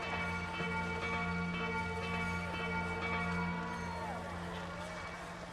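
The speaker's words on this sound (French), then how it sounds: "ça fait beaucoup de cloches" Several bells ring out in overlapping tones over a sustained musical drone, fairly soft and steady, with no talking.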